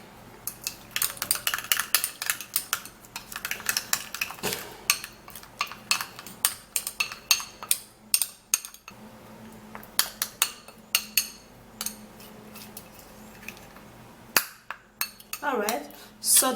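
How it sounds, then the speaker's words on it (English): A spoon or stirrer clinks and scrapes against a container while homemade anti-ageing face serum ingredients are mixed, giving irregular bright taps and clatters in quick bursts with short pauses, close and clear. "then would have to give this a final stir and mix properly"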